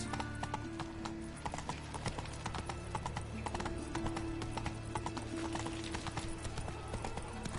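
Rapid rhythmic hoofbeats of a galloping horse in The Witcher 3: Wild Hunt, with a brief whinny, sounding like game audio with a steady background tone.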